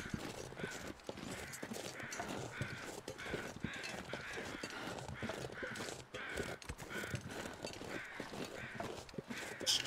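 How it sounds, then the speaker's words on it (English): Crows cawing repeatedly in the survival video game The Long Dark, harsh calls recurring through a dense, noisy in-game ambience with no speech. "It's just us and them crows"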